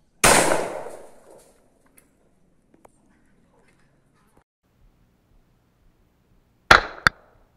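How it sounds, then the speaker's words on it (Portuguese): A Rossi 28 gauge shotgun fired with fine birdshot at a wooden target about five meters away: one loud, sharp blast decaying over a second, then quiet, then two close metallic clicks and clacks of the action. "fazer um disparo agora com chumbo fino a 5 metros, fazer um teste ali de agrupamento na madeira."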